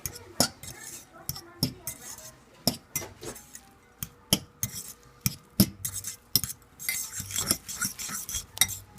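A utensil mixes oregano and garlic salt in a bowl, making a rapid, irregular series of close metallic clinks and scrapes against the dish, with brief gaps between bursts.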